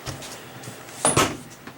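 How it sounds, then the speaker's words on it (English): The bathroom door of a 2019 Entegra Vision 31V motor home swings shut, giving a brief, close knock and latch after faint movement, in a quiet interior. "Now this bathroom door will close to make one giant bathroom."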